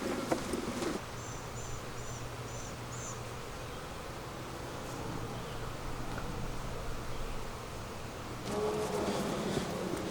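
Honey bees buzz around an open hive while a colony is split after harvest. The hum is faint and steady, with a few brief bird-like chirps early on.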